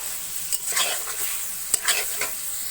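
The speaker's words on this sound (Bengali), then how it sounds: "এটাকে এখন সুন্দর করে কষাবো।" Spiced chicken liver (mete kosha) is stir-fried in a pan, with a soft sizzle under a few close spatula scrapes and clicks in quick, uneven strokes.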